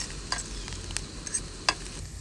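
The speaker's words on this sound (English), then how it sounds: "And proceed to fry the hell out of these" Wild mushrooms frying in a pan outdoors, a steady moderate sizzle with occasional light clicks and scrapes of a utensil against the pan.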